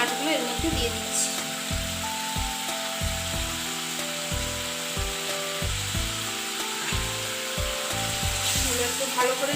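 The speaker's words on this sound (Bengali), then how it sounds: "এরপর এক এক করে আমি মাছগুলো এর মধ্যে দিয়ে দিচ্ছি" Bhola fish pieces fry in hot oil with a soft continuous sizzle, under a steady low rhythmic background of thuds and tones, with a faint voice present.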